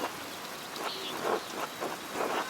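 Rain falling in the video game Pentiment, a steady soft hiss of rainfall on surfaces with gentle swells, moderately quiet and alone without voices.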